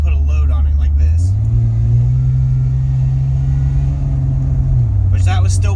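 The supercharged engine of a 2003 Honda Pilot pulls under load up a hill, a steady low drone that rises in pitch and holds before easing off, with someone speaking over it at the start and end.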